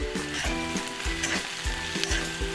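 A spoon scrapes and stirs a sizzling curry pan after red chutney and garam masala go in, the frying hiss broken by rhythmic stirring strokes at a steady pace.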